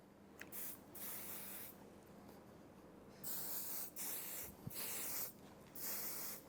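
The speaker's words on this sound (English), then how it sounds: "Then I'm gonna go in with a bit of spray wax." Spray wax misted onto long men's hair during styling, several close, loud hissing bursts of varying length separated by short pauses.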